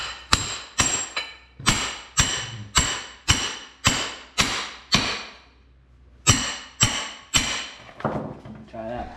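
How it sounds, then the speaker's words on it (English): Metal being banged straight with a hammer, loud sharp ringing blows in a steady rhythm, a run of seven then a pause and a few more strikes, each with a short metallic decay. "He's banging it out with a hammer, and it's actually working."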